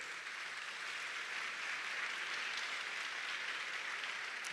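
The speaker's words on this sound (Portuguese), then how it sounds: "Pode aplaudir Jesus." A church congregation claps together at a worship service, a steady, dense wash of applause that holds evenly throughout without any voices over it.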